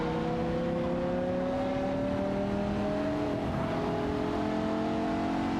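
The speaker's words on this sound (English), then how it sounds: "Wagp is driving a BMW M512 while Nukambakum is in a Dodge Viper SRT 1008" Engine roar from racing cars in a video game, a BMW M5 and a Dodge Viper SRT-10, holds a loud, continuous drone with tones slowly sliding upward as they accelerate together.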